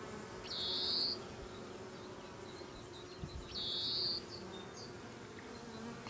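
Honey bees buzzing at a queenless hive during a colony check, with two loud, close buzzing passes, each about a second long, over a steady low hum of the colony.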